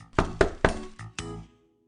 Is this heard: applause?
no